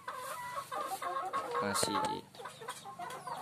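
Free-range village chickens clucking in their coop, several close-by bursts of clucking and squawks in an uneven rhythm, with someone speaking briefly among them.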